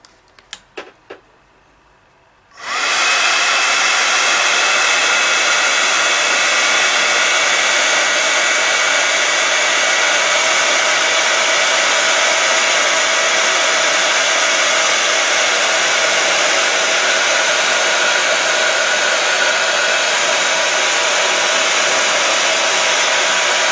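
A few light clicks come first, then an embossing heat tool switches on and blows a loud, steady hiss like a hair dryer while melting embossing powder on a craft piece, continuing unbroken to the end.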